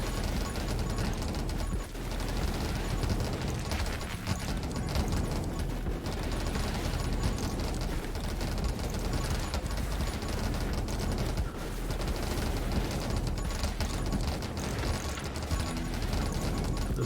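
A flame cannon in the video game 20 Minutes Till Dawn keeps firing in a dense, unbroken barrage that stays loud and rapid from start to finish.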